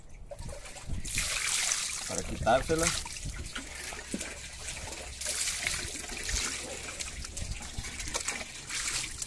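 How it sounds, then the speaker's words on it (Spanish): Water running and splashing over a whole red snapper while it is rinsed to wash off the loosened scales, a steady trickle that goes on under a voice talking close by. "vamos a echarle agua"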